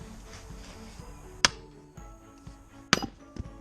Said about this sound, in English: with the sledgehammer and wedge, I'm just trying to tap it in to drive it in and force this thing apart